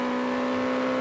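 A Datsun 610 race car at a vintage road race sings a brief, steady, high-pitched engine note, strong and tonal, held at constant revs for a moment.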